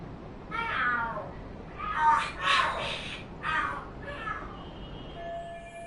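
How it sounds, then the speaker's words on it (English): Cats fight and scream in the game Lost Judgment, letting out several drawn-out yowls and caterwauls in uneven bursts, moderately loud against a quiet background, with no talking. "Are there cats fighting?"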